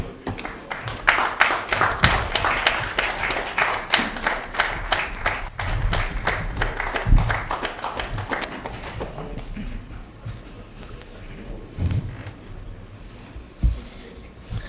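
Audience at a TradeMark Africa launch event in Ghana claps to welcome the diplomatic corps and ministers of state, with a burst of scattered clapping in the first half that thins into sparse, irregular claps amid room noise.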